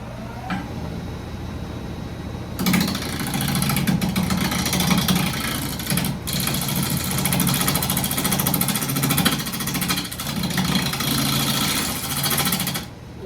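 Wood lathe turning maple at 2,050 RPM, starting up with a loud, dense whir and rattle that runs steadily with periodic scraping surges as the tool cuts the spinning wood.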